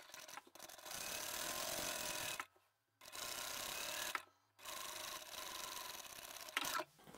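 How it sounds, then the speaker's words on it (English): A sewing machine stitches the bottom seam of a large craft bag's fabric lining in three fast, close runs separated by brief pauses. "With the lining, I'm going to sew the bottom seam with a slightly larger seam allowance"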